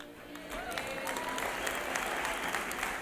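Sustained applause from a church congregation during a gospel service, a steady wash of clapping at moderate level with some voices mixed in.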